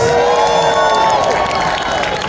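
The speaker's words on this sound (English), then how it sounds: "let's give a big round of applause for Jamina Brutus" Crowd at an event cheering and applauding for a named performer, with whoops and shouted tones over dense clapping, loud and brief.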